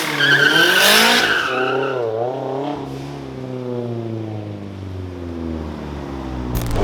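A drift car skids with long, loud tire squeals sliding and wavering in pitch over a roaring, revving engine, sustained throughout at close range.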